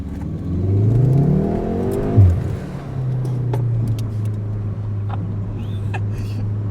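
VW Golf R MK7.5 with the EA888 turbocharged engine accelerating, a rising engine drone that climbs in pitch, dips at a shift, then settles into a steady hum, heard from inside the car.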